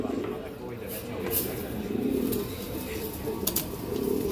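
Pigeons of old breed lines, kept in a loft at a pigeon farm, coo softly in low repeated murmurs beneath someone speaking, with a few sharp clicks and flutters.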